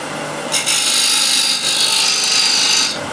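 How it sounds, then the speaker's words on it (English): A square end scraper cuts a recess in an 11-inch wooden plate turning on a lathe. It makes a continuous close, raspy scraping for about three seconds, with slight surges as the tool moves. "Square end scraper, actually a little bit more light, like this."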